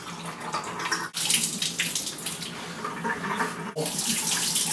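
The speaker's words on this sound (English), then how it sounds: "You want to do 7 quick fills and refills." Tap water runs into a film developing tank during E-6 film processing, a steady rushing flow broken by two brief pauses as the tank is emptied and refilled in quick cycles.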